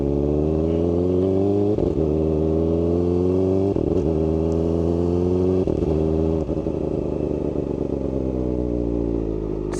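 A Kawasaki ZX-4RR motorcycle's inline engine revs repeatedly above 2500 RPM, rising smoothly in pitch several times with brief drops between, loud and close, no talk.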